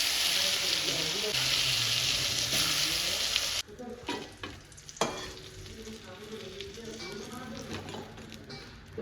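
Brinjal fries in hot oil with loud, steady sizzling for several seconds, then it drops and gives way to quieter clatter and scattered stirring sounds.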